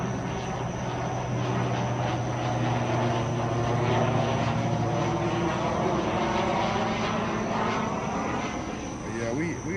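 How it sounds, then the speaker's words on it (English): An airplane drones overhead outdoors at a car restoration yard, a steady, loud engine roar sustained throughout with a constant hum beneath, while people talk over it. "Plane, I wonder where they going."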